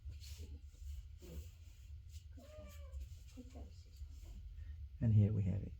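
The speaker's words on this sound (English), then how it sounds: "Cat is just waking up." Meowing and stirring sounds come from a cat just waking up in a quiet room, with a faint call in the middle and a louder, rougher cry near the end over low background hum.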